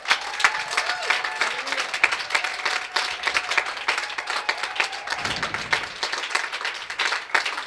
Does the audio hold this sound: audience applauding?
yes